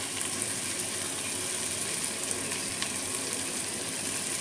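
Potatoes sizzle in hot oil for kurma bhaji, a steady, close crackle that holds even throughout with no talking.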